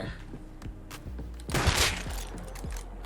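Gunfire in the survival video game Rust, a handful of sharp shots spaced over a few seconds with a denser burst in the middle, fairly loud and without talk.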